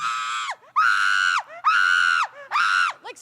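A person mimics a screaming child with four long, shrill, wavering screams in a row, each cut off by a short break, loud and close, in the style of a screaming goat.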